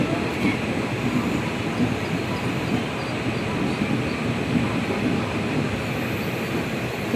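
A train rolling slowly out after departure, held back by a signal, gives a steady rumbling drone with faint rail noise, continuous and moderately close throughout.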